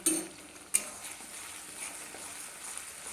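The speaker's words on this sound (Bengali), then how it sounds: "এইবার সবটাকে ধীরে ধীরে ভাজা ভাজা করে নিতে হবে মানে কষিয়ে নিতে হবে যতক্ষণ না আদা রসুন পেঁয়াজের কাঁচা গন্ধটা চলে যায়" Ginger, garlic and onion paste fries gently in a pan while being stirred for a fish curry, giving a faint steady sizzle with an occasional soft clink of a utensil and no talking.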